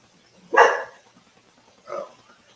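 Dog giving two barks, a loud sharp one followed by a softer, shorter one a little over a second later, in a quiet room.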